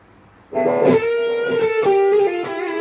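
An electric guitar runs through reverb and delay effects. A plucked chord rings out with a long, washy sustain, and softer repeated echoes trail behind it.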